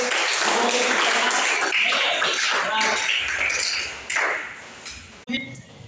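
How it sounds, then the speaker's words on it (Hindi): Classroom applause for students in a ninth-standard Hindi lesson, with loud, dense clapping that fades out after about four seconds, ending in a few scattered claps and a sharp knock. "वेरी गुड, तालियां हो जाए सबके लिए।"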